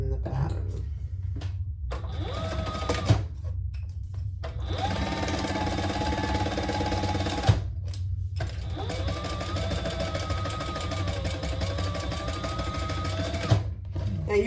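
Sewing machine stitching the seam allowance on the outer and lining pieces of a waist pack or crossbody bag, sustained motor runs with rapid needle clatter broken by short pauses, close and loud, with some talk at times.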